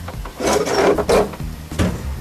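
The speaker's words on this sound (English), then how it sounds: "Crank the window down." A worn Volkswagen Beetle door window is cranked down by hand, giving several close, loud rasping and rubbing strokes in an uneven rhythm, with no voices.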